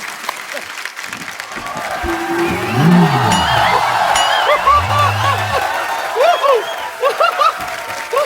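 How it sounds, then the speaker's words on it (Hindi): A large studio audience bursts into loud, sustained applause and cheering for a comedian dressed as a yoga baba, with a voice speaking over the clapping and music rising underneath. "जोरदार तालियां एक बार बाबा जी के लिए"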